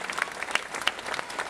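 Applause from an audience at a Polonia Warszawa 2010/2011 squad presentation, greeting player Dariusz: dense, steady clapping from a crowd, fairly close, with sharper individual claps standing out.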